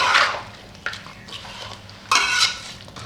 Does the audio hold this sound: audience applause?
no